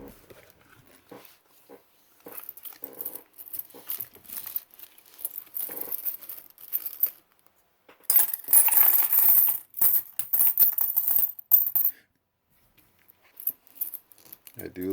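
Silver Mercury dimes clink and jingle as they are dropped and handled, bright metallic rattles coming in bursts with quiet gaps, close and fairly faint.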